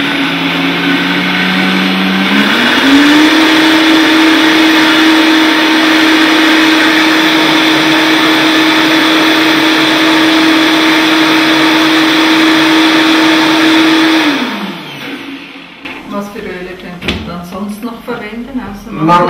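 A kitchen blender runs steadily and loudly for about fourteen seconds while almond oil is poured in, its motor pitch rising slightly early on, then winds down and stops, leaving quieter kitchen sounds.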